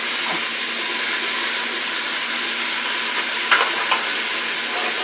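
Onions go into a pan of frying beef, giving a steady, close sizzle that hisses evenly throughout, with a few brief crackles and pops near the end.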